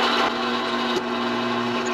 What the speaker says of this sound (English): You can always pump the drill bit a little bit to